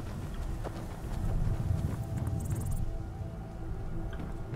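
Horse hooves clip-clopping in the Skyrim video game, a soft continuous patter of steps under faint wind-like game ambience, fairly quiet and distant with no talk.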